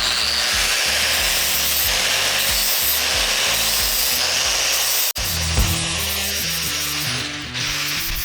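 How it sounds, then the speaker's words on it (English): A loud, continuous grinding and abrasive whine of an angle grinder sharpening a steel blade, steady throughout with a brief cut-out partway before it resumes. "just some safety advice when using an angle grinder"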